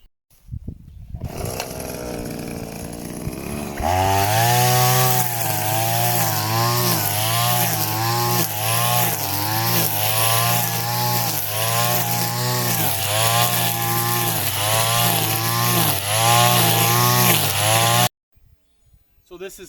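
A motorized mower cuts tall grass in an Italian garden, its engine starting up then running loud and steady with a rising and falling drone as it bites into the growth, before cutting off abruptly near the end.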